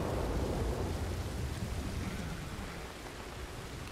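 Steady rain pours in Red Dead Redemption 2, with a low rumble of thunder rolling beneath it. The wash of noise is loud at first and eases slightly toward the end, with no voices.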